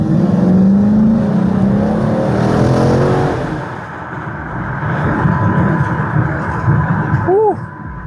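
A car on a main road accelerates hard up to the speed limit, its engine a loud, steady roar that swells then eases, heard close and continuous with no talk.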